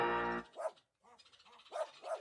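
A dog gives a few short, close barks in uneven bursts with brief pauses, following a moment of tonal music at the start.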